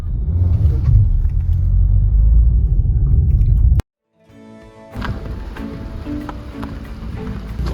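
A vehicle grinds along a rough mountain road in Uttarakhand in first gear, a loud, close, low rumble that cuts off abruptly, then returns as a quieter rattling drone.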